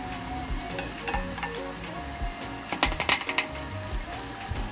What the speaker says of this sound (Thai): เราก็ต้องใช้ตะหลิวเนี่ยเกลี่ยๆกดๆให้เขาเป็นแตกตัวออกนะครับ ทำการผัดคลุกเคล้าได้ความชื้นออกไปนะครับ